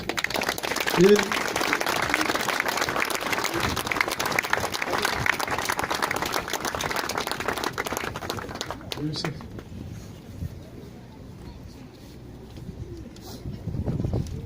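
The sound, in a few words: applause for families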